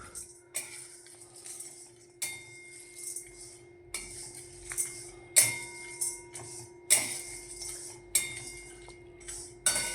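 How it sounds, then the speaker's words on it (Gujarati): Dry tea-masala spices rattle and scrape in a metal pan roasting over low gas, with sharp clinks at irregular intervals over a low steady hum. "આ રીતે ધીમા ગેસથી શેકી લેવાનો"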